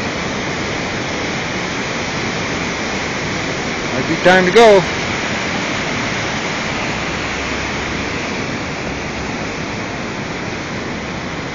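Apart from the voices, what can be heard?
rushing floodwater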